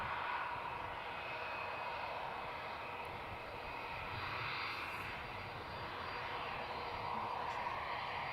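An airliner engine roars steadily at Amsterdam Schiphol airport, a moderately distant, continuous rumble and whine that swells slightly and fades, with no talk over it.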